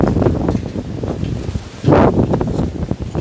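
Gusty outdoor wind buffeting the microphone in uneven rumbling bursts, with one stronger gust midway and light rustling around it.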